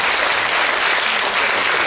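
Audience applause after a lecture by a professor, a dense, even wash of many hands clapping at once, loud and close, sustained for the whole moment.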